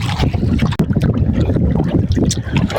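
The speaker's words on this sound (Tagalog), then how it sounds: "Naabot na tayo ng ng hangin." Strong gusty wind buffets the microphone outdoors on the water during a fishing trip by paddled boat, a loud rumbling roar with some splashing of water underneath.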